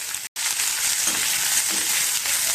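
Onion fries in oil in a pan for potato masala, giving a loud, close, continuous sizzle that is cut off by one brief silent gap near the start.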